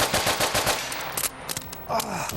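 Rapid revolver shots fired in quick succession during a 3-gun shooting competition, a dense loud burst of cracks with brief pauses, sharp and close throughout.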